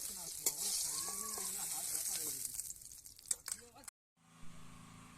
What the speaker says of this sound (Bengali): বেগুনগুলো আমি এপিট উপিট দুপিট উল্টে হালকা করে ভেজে নেব